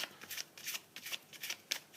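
Tarot cards being shuffled by hand, a run of quick crisp riffles and soft slaps in an irregular rhythm, close and fairly quiet, with no voice.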